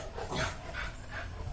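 A dog gives three short yips or barks, fairly faint and some distance off, spaced about 0.4 seconds apart, heard outdoors in Uttarakhand with no talking over them.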